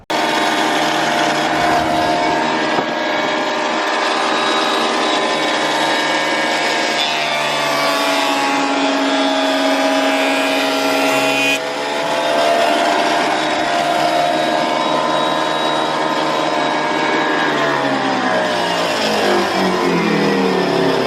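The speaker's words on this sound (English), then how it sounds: "I'm going to do that using this machine here, a planer" A wood planer runs a pass over a glued wooden board for a children's table, giving a loud, steady mechanical whine with shifting pitch that lasts the whole stretch, with no talk.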